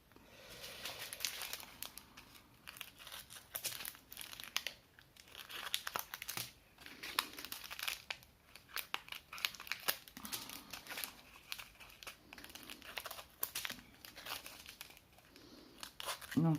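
Plastic packet of diamond painting drills being cut open with scissors, heard as close, continuous crinkling and snipping over about sixteen seconds with no talking.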